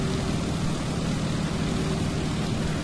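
Stearman biplane engine in Microsoft Flight, a steady broadband propeller drone with a constant hum, unchanging and close throughout, with no speech.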